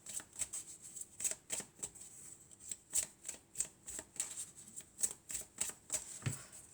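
A deck of tarot cards being shuffled and cut, giving a steady run of crisp riffling flicks and soft card slaps, close and fairly quiet, with no talking.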